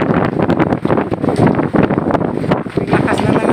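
Strong wind from a local thunderstorm buffets a construction work site, roaring and gusting hard against the microphone in loud uneven bursts while someone talks over it.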